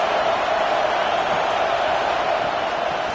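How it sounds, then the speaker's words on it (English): A college football stadium crowd roars steadily as fans get behind the defense on a big third down, a dense, sustained wash of cheering with no distinct breaks. "Big third down as the crowd gets behind this defense."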